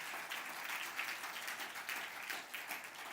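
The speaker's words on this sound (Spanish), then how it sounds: "Dale un aplauso al Señor por eso." A church congregation applauds during a sermon, a fairly faint wash of many hands clapping, steady with small swells, heard from a distance.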